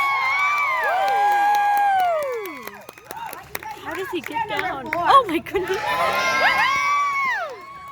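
Renaissance festival crowd at a fire performance, cheering and whooping with scattered applause and excited shouts, a voice speaking over the din in the middle before the cheers swell again.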